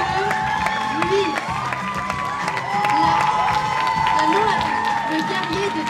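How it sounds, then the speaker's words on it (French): A school audience at an eco fashion show claps and cheers for the headmaster, a steady wash of applause with scattered shouts and voices, fairly loud and continuous throughout. "Maintenant, un grand applaudissement pour le proviseur, Monsieur Louis"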